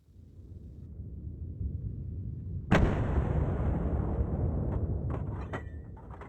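A single loud rifle shot from a wild boar hunt cracks suddenly partway through, then rolls into a long echoing decay over steady outdoor background noise.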